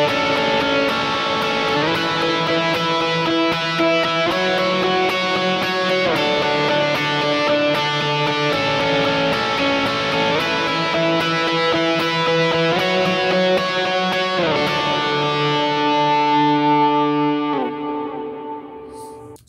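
Electric guitar with effects, mild distortion and chorus, strums a rhythmic pattern that repeats over changing chords in a beginner worship style, steady and full, ringing out at the end.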